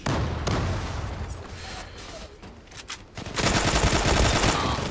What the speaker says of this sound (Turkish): Elimdeki silahla adamın ağzının içinden 30 tane mermi atıyorum adam ölmüyor